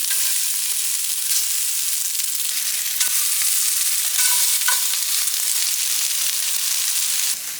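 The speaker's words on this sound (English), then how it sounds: "We're gonna put oil in the pan and start cooking them." Meatballs fry in bacon fat in a pan, giving a loud, steady broadband sizzle that runs unbroken for the whole stretch with only small crackles and shifts, and no voices.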